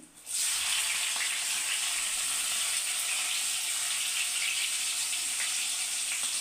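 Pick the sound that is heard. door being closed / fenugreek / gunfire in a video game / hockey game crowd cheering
fenugreek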